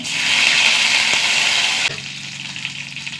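Curry leaves hitting hot coconut oil with mustard seeds and dried chillies, a loud close sizzling burst that drops abruptly to a softer simmering crackle partway through.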